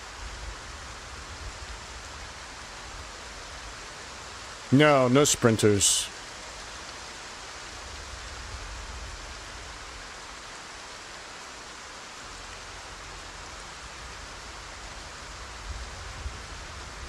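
Steady rain in Project Zomboid's Knox County, a constant loud hiss of rainfall filling the scene throughout, briefly interrupted by a short burst of voice near the middle.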